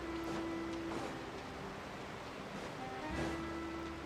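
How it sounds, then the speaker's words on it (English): Soft, steady rush of a waterfall in Genshin Impact's Fontaine region, a constant hiss of falling water at moderate distance with faint tonal game ambience drifting over it and no speech. "look at that waterfall"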